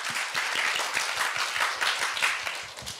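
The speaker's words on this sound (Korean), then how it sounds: "첫 질의응답 순서에 만큼 큰 박수 부탁드립니다" A university speaking contest audience claps, with a moderate crowd of hands producing a fairly quick, lightly uneven patter that holds steady for a few seconds at a comfortable distance.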